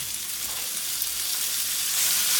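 Cabbage and Brussels sprouts fry in olive oil in a pan, a close, steady hiss and sizzle that swells slightly louder toward the end, with no voices.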